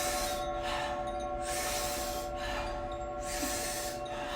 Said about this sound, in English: we're going to be taking about 40 powerful breaths into the body through a round mouth